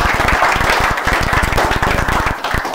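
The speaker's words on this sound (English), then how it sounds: "Let's ask for a round of applause" A lecture audience at a Dorset Humanists talk breaks into loud, close applause, dense overlapping claps filling the room with a strong steady rhythm before tapering slightly.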